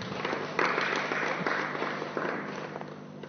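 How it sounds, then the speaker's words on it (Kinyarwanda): A small audience claps in a short burst of applause that swells and fades over a few seconds, heard from a moderate distance. "Mubikunze rwose mwabampera amashyi menshi cyane."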